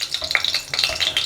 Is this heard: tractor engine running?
no